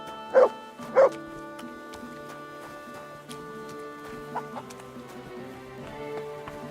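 A dog in the medieval role-playing game Kingdom Come: Deliverance II gives two sharp, close barks in quick succession, followed by quieter game ambience with soft clopping and faint musical tones.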